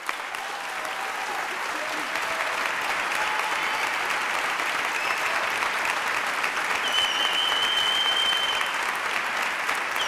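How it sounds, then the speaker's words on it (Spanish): An audience at the opening ceremony of the 30th Valdivia International Film Festival applauds the festival team, sustained dense clapping from a large crowd, steady and fairly loud throughout, with faint cheers mixed in. "quiero pedir un aplauso especial para el equipo del Festival de Cine de Valdivia"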